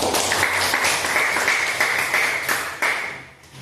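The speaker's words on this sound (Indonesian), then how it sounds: "tepuk 3, tepuk 3, tepuk 2, tepuk 5. Tepuk tangan kita." Children in a primary school classroom clapping their hands together in a group, bursts of claps in a patterned rhythm that fade out toward the end.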